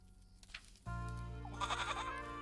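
A goat that has wandered into a house in a video game bleats in a sudden, loud, sustained burst, with bright chattering game sounds layered on top toward the end.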